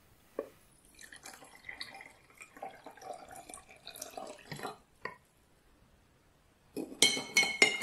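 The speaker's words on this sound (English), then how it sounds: "Pour in 300 milliliters of water and mix thoroughly." Faint clinks and trickling water as 300 milliliters of water is poured into a glass jar of sugar, then a louder burst of rapid clinking and scraping near the end as a spoon stirs.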